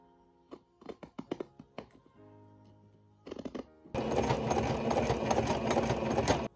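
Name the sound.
sewing machine stitching fabric pocket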